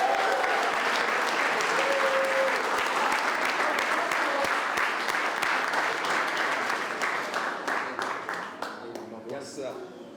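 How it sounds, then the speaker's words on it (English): An audience at a graduation ceremony applauds in a long, dense round of clapping that holds strong for several seconds, then thins out and fades toward the end. "Round of applause for Mr. Deron Broadway Jr."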